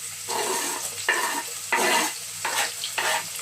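Chopped onions hit hot oil for Nigerian jollof rice, giving a loud, close sizzle that comes in repeated surges as they are stirred and scraped in the pan, with no talking.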